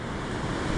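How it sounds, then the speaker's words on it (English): Ocean swell breaking on a rocky shore at Ballintoy, a steady wash of surf roar with wind buffeting the microphone, loud and continuous through the short stretch. "there's a big wave coming now"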